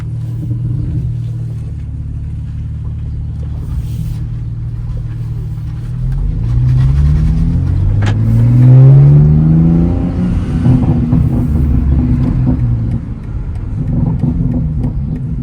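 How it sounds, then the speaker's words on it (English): A BMW G80 M3 coded with a CS flash drives in Sport Plus mode, its engine heard from inside as a low steady rumble that swells into a rising rev and settles back into a deep cruise. "let's go for a ride"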